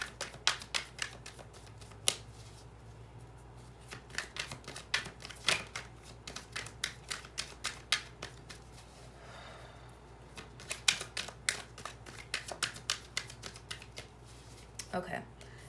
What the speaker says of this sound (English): So let me just shuffle a little bit.